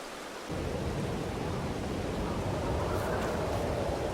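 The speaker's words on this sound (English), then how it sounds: "It's a little bit rain in the night and in the morning." Steady light rain falls in a survival video game, a dense broadband hiss that starts abruptly after a brief quiet moment and then continues evenly throughout.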